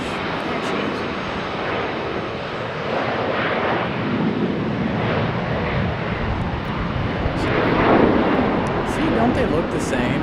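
Lufthansa airliner at Charlotte Douglas International Airport, heard from atop a parking garage as a steady, broad jet roar that swells slightly toward the end, with voices talking over it.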